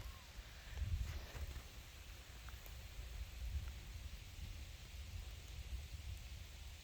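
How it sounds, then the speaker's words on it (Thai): Soft, steady rain hisses faintly with a low rumbling undertone, quiet and continuous, no speech. "ฝนตกค่ะยังกลับไม่ถึงบ้านเลย"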